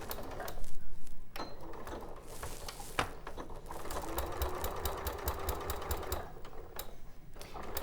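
A sewing machine stitches a basting seam within a 1 cm seam allowance, a quiet rapid mechanical whirr running in short bursts with small pauses and clicks, close by with no talking.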